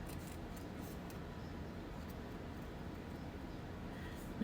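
Scissors cutting straight through craft paper: a steady, close, soft rasping snip that runs continuously for several seconds.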